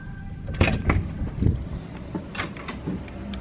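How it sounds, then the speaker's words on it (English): A balcony stateroom door aboard the cruise ship Majestic Princess being unlocked with a wearable medallion and pushed open: a few close clicks and clunks of the latch and handle, then softer rustling and faint movement in the cabin. "Just use my medallion to unlock the door."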